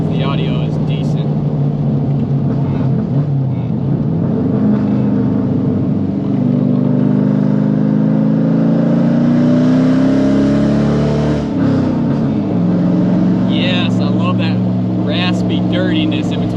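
Manual V8 car with an equal-length center exhaust revs loudly and steadily, its engine note rising and falling through shifts and decel, with wind buffeting and a voice talking over parts of it.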